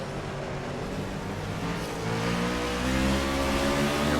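A race car at Road America accelerates out of a turn, the driver pedaling the throttle; a loud, sustained engine drone rises in pitch and volume, close and continuous with no talk.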